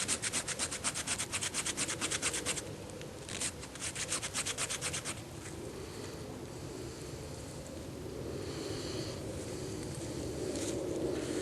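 Fire striker from a fire flash kit scraped hard to throw sparks onto tinder, heard as rapid rhythmic rasping strokes in two close bursts, then a softer continuous hiss.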